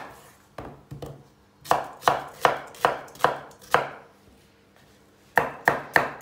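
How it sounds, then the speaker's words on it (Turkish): A knife chops vegetables on a cutting board in quick bursts of sharp, close thuds, pausing between runs, with no talking. "Şimdi diğer malzemeyi doğrayacağız."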